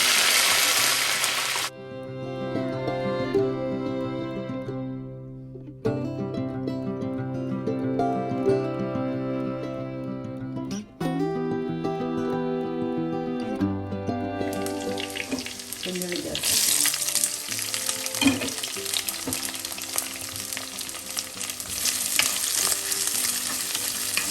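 Sardines sizzle steadily in a pan with black pepper and curry leaves, a continuous frying hiss that grows louder and brighter toward the end, with a melodic background underneath.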